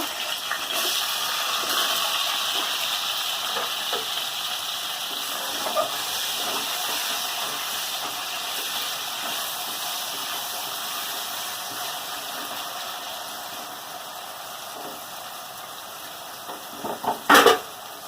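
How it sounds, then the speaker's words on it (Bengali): Potatoes fry in hot oil in a pan, giving a steady hiss and sizzle that holds for the whole stretch, with a few sharper crackles and spits near the end. "এই তেলেই আমি আলুটা ভেজে নেব।"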